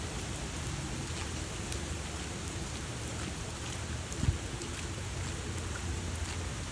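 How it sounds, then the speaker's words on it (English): Heavy rain from Hurricane Debby pours down steadily outdoors around a house's gutters, a dense, constant hiss of water with one brief low thump partway through. "See, the rain is coming down so hard"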